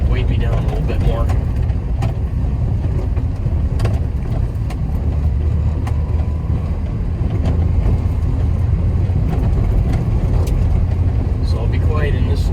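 Mini truck rolling along a road on a drive to work, a steady low broadband roar of tire and road noise with engine rumble filling the whole stretch, no talking.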